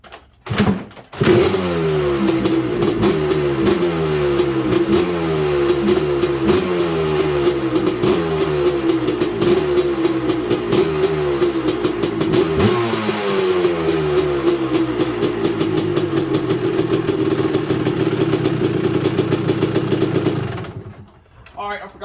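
A Honda SL100 motorcycle catches after a brief start, then runs with repeated rising and falling revs at close range before cutting off near the end.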